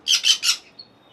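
Several caged pet birds of mixed colourful varieties in a bird shop give three quick, close chirping bursts in a row, followed by a faint thin trailing call.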